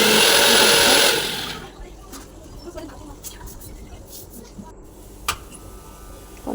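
A mixer grinder whirs loudly while grinding spice paste, then cuts off after about a second and a half. A quiet kitchen follows, with faint pigeon coos and small clinks.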